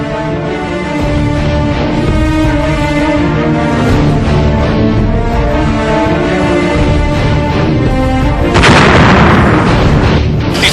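A bomb explosion sound effect in an Urdu telefilm: a sudden broadband blast erupts near the end, cutting across a sustained droning music-like bed that fills the preceding seconds.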